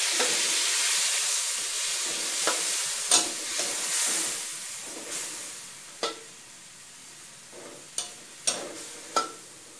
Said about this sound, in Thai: ทีนี้เราก็ใส่น้ำลงไปนะคะ